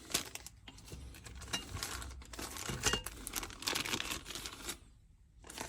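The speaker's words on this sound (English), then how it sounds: "Let's have a look at these and take them out the packets." Small cutting discs for a mini circular saw being pulled out of crinkly plastic packets, with close crackling, rustling and tearing and a few light clicks of the discs.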